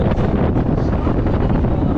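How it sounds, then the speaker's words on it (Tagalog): Loud, steady, cold wind at a fish market in Dalahican buffets the microphone with a heavy, continuous rumbling roar. "Lakas ang hangin."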